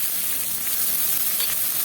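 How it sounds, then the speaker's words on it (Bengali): Ginger paste fries in hot oil, producing a continuous, even sizzle heard close up and alone, with faint stirring textures and no voices. "অল্প করে আদা বাটাটা দিয়ে দিলাম এবার এটা একটু ভাজা ভাজা করে নেবো"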